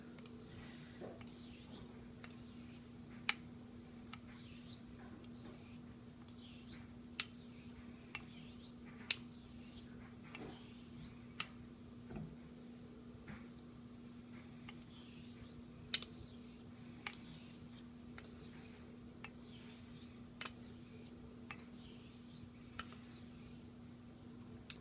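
A straight razor strokes back and forth across a Japanese natural whetstone coated in dark slurry, producing rhythmic wet scraping passes in a steady, close, quiet sequence over a low hum.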